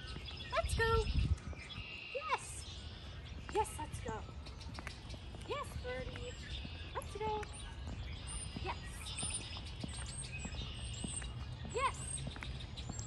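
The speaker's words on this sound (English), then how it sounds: "Can you hear all the birds and the springtime noises?" Spring birds chirp and tweet repeatedly in the background of an outdoor grassy scene, with scattered calls, footsteps and a brief louder rustle near the start.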